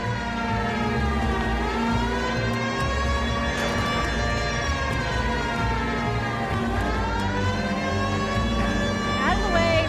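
A video-game police car siren wails loudly and continuously up close, its pitch sweeping up and down in long cycles over a rumbling engine, with voices calling out beneath it.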